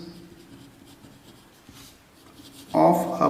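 Marker or chalk scratches softly across a board while the definition of a kinematic pair is written, a faint steady rubbing that swells into louder, harsher strokes near the end.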